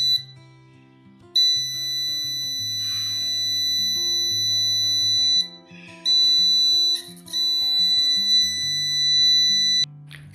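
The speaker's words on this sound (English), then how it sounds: "the output becomes high and Arduino activates the passive buzzer." A high electronic beep from a passive buzzer triggered by an IR obstacle sensor on an Arduino Nano sounds in long steady tones, switching off and on with brief gaps, over faint background music.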